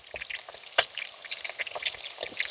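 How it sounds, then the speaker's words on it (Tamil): Mutton 65 pieces are tossed in a hot pan of frying oil, giving a steady close sizzle with sharp crackles and a brief clatter as they are turned. "இப்போ இதை அப்படியே லைட்டாக ஒரு பரட்டி விட்டுருவோம்."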